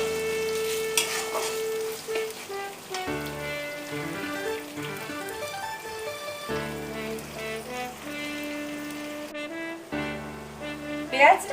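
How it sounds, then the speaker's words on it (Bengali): Onions frying in a pan give a steady sizzle beneath a continuous bed of music with sustained tones, fairly faint and partly masked throughout. "পেঁয়াজটাকে আমরা ভালো করে আগে ভাজি।"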